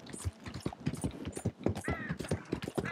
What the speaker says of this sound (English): Oh, a horse and cart.